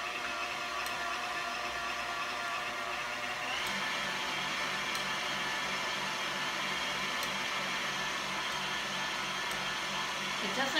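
Electric mixer whipping egg whites for raspberry meringue, a steady loud whirring hum running throughout with slight shifts in pitch, close by.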